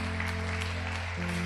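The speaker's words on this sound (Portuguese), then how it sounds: "Uma salva de palmas para o Jairo" A church congregation applauds Jairo, a dense, steady wash of clapping lasting a moment, with a low steady hum running beneath it.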